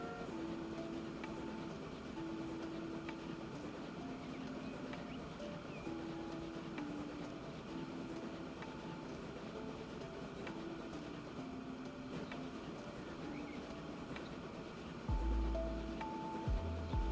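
Trains run through a Transport Fever 2 UK map near Blackpool, steady rolling rumble and low mechanical drone continuing throughout, with faint tonal hums over it and a brief low thump near the end.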